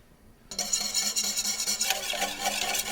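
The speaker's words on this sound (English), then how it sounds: "We let it simmer for a few minutes while you whisk." Starch being whisked into a simmering wild berry juice glaze for a cheesecake, a steady brisk scraping and stirring in a pot that starts abruptly and continues without pause, close and fairly loud.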